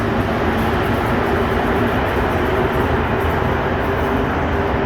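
A Montreal Metro Green Line train in motion gives a loud, steady, close rumble with a continuous roar of wheels and tunnel noise from start to finish, and no voices.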